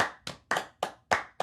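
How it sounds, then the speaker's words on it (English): Sharp hand claps in an uneven pattern, six crisp close strikes with varying gaps between them, played alone with no talking. "if I'm like clapping like this"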